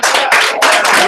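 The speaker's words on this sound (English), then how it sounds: "Let's give him a" Audience clapping for a speaker at a 1 Million Cups Cedar Valley event, a short loud burst of close clapping with no talk.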